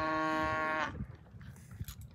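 A cow gives a long, loud, tonal moo while cattle are moved between pastures, the call cutting off after under a second, followed by rustling and low movement noise outdoors.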